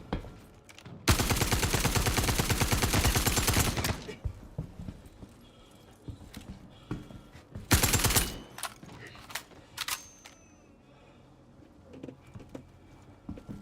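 Gunfire in the game Star Citizen: a sustained loud burst of automatic fire for about three seconds, a second shorter burst later, then scattered lighter shots and clatter with no talking.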